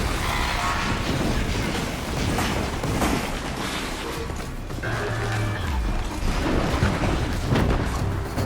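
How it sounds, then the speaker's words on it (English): An explosion booms in the video game Horizon Zero Dawn Remastered, a heavy crashing blast amid dense, continuous game noise and rumbling effects. "Explosion."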